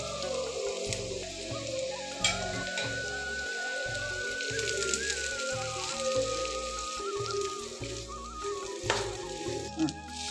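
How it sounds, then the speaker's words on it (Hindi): Fried baby corn drops into a hot pan of onions and peppers, setting off a steady close sizzle with light stirring scrapes, alone without talk. "हमने जो कॉर्न तल के रखे थे अब उसको हम इसमें डालेंगे।"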